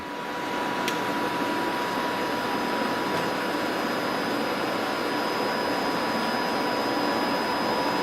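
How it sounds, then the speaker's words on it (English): A YesWelder MIG 205DS multi-process MIG welder feeds wire through its liner, giving a steady, even whirring drone with a faint whine that runs unbroken after a brief start, with no talking. "You want to push this wire feed button and you're going to hear the wire roll through the machine"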